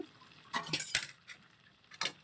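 Drumstick pieces drop into a pan of drumstick and tomato curry, giving a few short metallic clinks and clatters, close and fairly quiet, with brief pauses between them.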